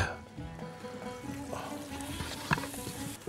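Diced chicken pieces searing in a pot for carrot and chicken soup, giving a continuous moderate sizzle with some splashy, watery texture and a brief clatter near the end.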